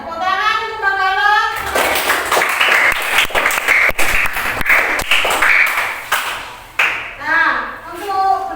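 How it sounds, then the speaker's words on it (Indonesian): Classroom students clap for a classmate after a presentation on Majapahit kingdom relics, a burst of lively applause of several seconds framed by a teacher's voice before and after. "Tepuk tangan untuk Mbak Galo"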